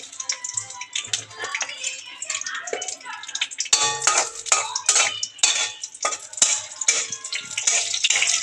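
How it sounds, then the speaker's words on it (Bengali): Dried red chillies hitting hot oil in a pan to make a pointed gourd mash, with a steady bright crackling sizzle broken by clinks of a metal spoon stirring against the pan, close and continuous with no talk. "তেলটা গরম হলে তাতে দিয়ে দেব কয়েকটা শুকনো মরিচ।"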